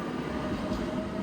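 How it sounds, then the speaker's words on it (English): A tram rolls along its tracks in a Budapest street, a steady loud rumble of wheels and carriage noise with a faint squealing tone running throughout. "away from these noisy tram lines"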